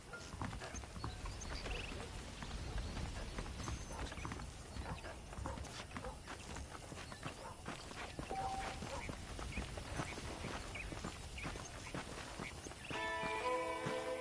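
Saddled horses trot in the video game Red Dead Redemption, a steady run of hoof clip-clops under a dense layer of game ambience, with faint tonal music cues near the end and no clear talk.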